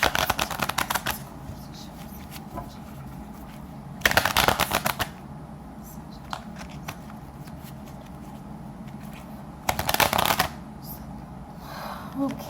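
A deck of tarot cards is shuffled in three quick riffling bursts, each about a second long, separated by quieter stretches of faint room noise.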